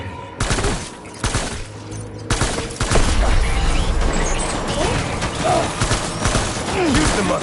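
Rapid bursts of gunfire in a video game, sharp overlapping shots and automatic fire crackling loudly over a steady mechanical din, with brief quieter gaps between volleys.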